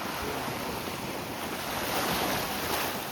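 Cold water pours down a slope in a steady rushing roar at Malvan, mixed with some wind buffeting the microphone; no one speaks.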